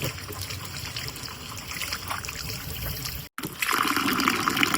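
Tap water runs and splashes steadily while goat tripe is washed for a village-style dish, loud and close, with a brief cut before the flow resumes.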